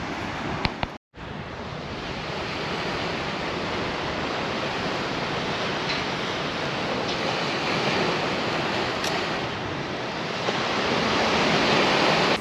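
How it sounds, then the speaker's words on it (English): Steady roar of Mediterranean sea waves breaking and washing in at Bendinat and Portals Nous, Mallorca, continuous broadband surf with a brief dropout near the start, no voices. "sit down, just watch and listen to the waves"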